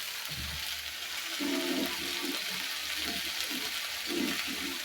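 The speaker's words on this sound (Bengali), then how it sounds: "একটু পানি দিয়ে নিই" A little water added to ginger paste frying in a pan in a village kitchen gives a faint, hissing splash and bubbling sizzle over steady background noise.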